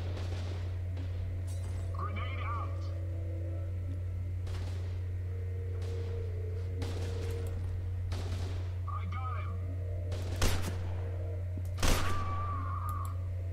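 Scattered gunshots and shattering impacts in F.E.A.R. 2, a few sharp isolated cracks over a steady low hum, with someone talking in between.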